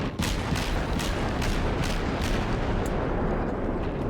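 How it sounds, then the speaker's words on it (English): Naval guns on a tier 2 warship in World of Warships boom in a dense, continuous barrage, heavy low rumbling blasts arriving roughly every half second with sharp cracks on top, loud and unbroken. "it's nice to have a ship with so many guns"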